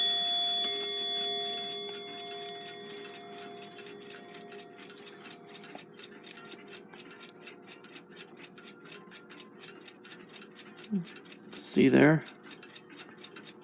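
A Westclox Big Ben Loud Alarm style 5A clock movement, out of its case during a rebuild, ticks in a steady rapid rhythm as its escape wheel turns, close and clear, with brief handling clatter near the end and a short spoken remark.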